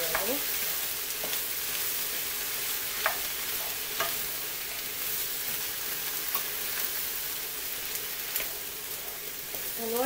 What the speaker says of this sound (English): You want to try to mix it all with the onion that has been, the onion and the garlic that has been stir fried already.